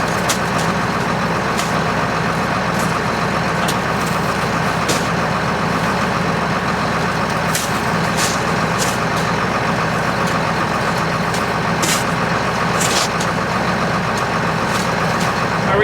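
A semi truck engine runs in deep snow, a loud steady rumble close by with a few sharp clicks and hisses breaking through over the continuous drone.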